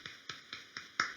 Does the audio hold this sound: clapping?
yes